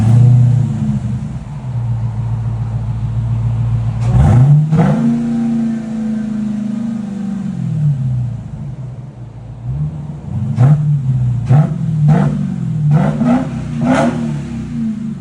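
A 2023 Dodge Charger Hellcat with carbon exhaust tips, 5-inch tips and stock mid-pipes idles with a deep, loud rumble, then barks through one sharp rev, settles, and fires off a quick series of rapid blips near the end.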